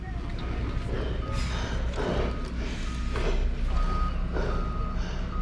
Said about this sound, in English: They're pulling the lorry out.